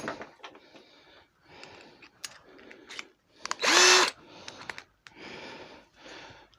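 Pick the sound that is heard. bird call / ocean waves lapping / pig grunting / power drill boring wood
power drill boring wood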